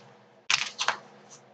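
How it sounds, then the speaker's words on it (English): Trading card packs for a collectible card game are shuffled by hand, giving a couple of brief, crisp papery rustles and flicks up close in an otherwise quiet room. "Shuffle these up a little bit."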